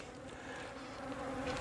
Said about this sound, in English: the bees will come up inside there